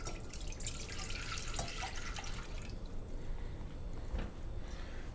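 Water poured from a measuring vessel, about 16 ounces, into a pot before bottling homebrew beer: a steady splashing pour for nearly three seconds, then quieter drips and trickles, close and fairly soft.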